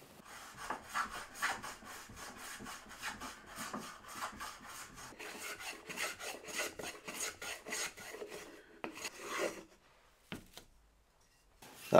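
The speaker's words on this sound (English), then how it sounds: "So I'm just going to take the block plane and just round them over a little." A block plane rounding over the square edges of a wooden piece, a quick series of rhythmic rasping strokes, close and fairly quiet, slowing and spreading out toward the end.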